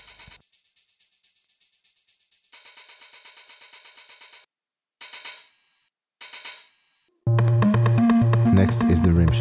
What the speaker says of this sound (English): The hi-hat in this track is very subtle. I've actually used three hi-hats to reproduce it.